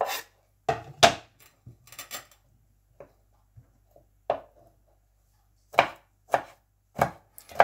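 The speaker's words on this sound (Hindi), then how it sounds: "लहसुन काट लेंगे।" Garlic chopped with a knife on a board in a home kitchen while cooking deer meat karahi, heard as sharp knife taps in scattered bursts, loud and close, with no talking.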